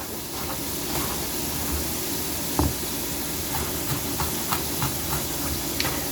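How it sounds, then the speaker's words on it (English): Onions sweat in a pan, a steady low sizzle with scattered faint pops and ticks throughout. "It's sweating out those onions. hoping to get them a little caramelized."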